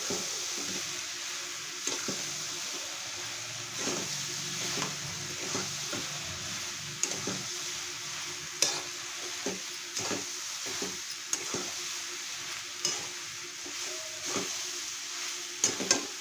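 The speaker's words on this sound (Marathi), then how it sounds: "आपण हलवून घेऊया" Food frying in a pan is stirred with a utensil, giving a steady sizzle broken by repeated scraping and tapping strokes throughout, with no talking.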